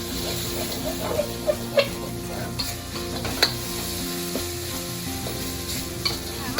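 An aromatic paste stir-fries in a pan with a continuous sizzle, punctuated by scattered clinks and taps of a utensil against the pan.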